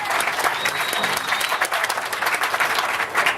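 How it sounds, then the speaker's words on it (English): Audience applause greets a woman walking onstage, a dense, loud burst of clapping and crowd noise filling the whole short stretch. "So let's bring her out with a great big round of applause."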